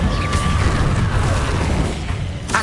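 Incendio fire spell cast in Hogwarts Legacy, a loud, dense burst of roaring, booming flame that fills the whole stretch with no speech, closing on a sharper crackling flare.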